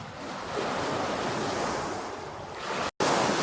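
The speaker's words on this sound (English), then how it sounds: "There's some very noisy waves." Waves wash steadily against the River Thames shore, a loud continuous rushing surf with wind noise buffeting the microphone and a brief dropout near the end.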